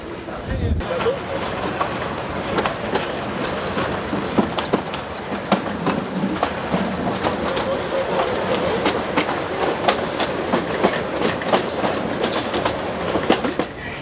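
Heritage train on the Vivarais railway between Tournon and Lamastre, a continuous close rumble of rolling wheels with rhythmic clicks and knocks over the rails, with a voice talking over it.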